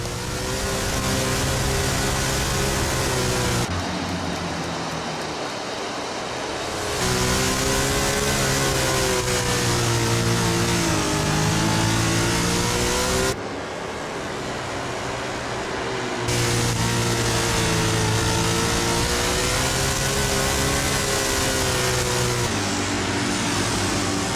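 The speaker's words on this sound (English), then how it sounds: "Now time for our beautiful rev it up section." NASCAR race car engine in the game NASCAR Heat 5, loud sustained revving with rising and falling pitch, broken by two short drops in intensity, no voices.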